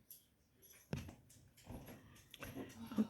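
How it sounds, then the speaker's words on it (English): A dog whimpers and makes soft vocal sounds close by in a quiet room, with short bursts and rustles spread across a few seconds. "Is another dog somewhere?"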